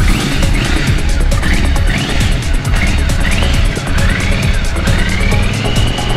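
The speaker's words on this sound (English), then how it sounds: "It's a 2006 Triumph Scrambler." A 2006 Triumph Scrambler motorcycle engine runs loud and close, revving up and down repeatedly in rising sweeps.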